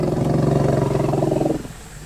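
An elephant gives a low, throbbing rumble that holds steady and loud for about a second and a half, then fades out, with no talking over it.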